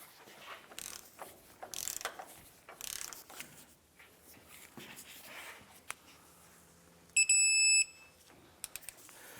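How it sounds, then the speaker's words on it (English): A torque wrench tightens ball joint nuts on a Jeep Wrangler, giving sharp clicking ratchet sounds in short bursts among workshop handling noises, followed by a brief bright electronic tone. "We're now going to go ahead and torque these nuts, both upper and lower, to 75 foot-pounds."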